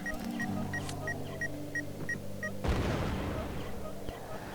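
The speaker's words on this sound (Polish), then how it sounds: "na szczęście mina wybuchła trochę późno" In the video game Worms 3D, a sudden heavy mine explosion bursts after a series of regular electronic beeps, followed by a rumbling, crackling decay.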